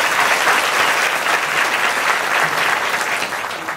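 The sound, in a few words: loud audience applause at a kirtan gathering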